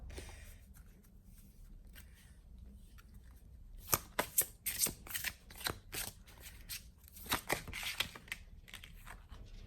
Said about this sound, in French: je vais quand même peut-être vous tirer une carte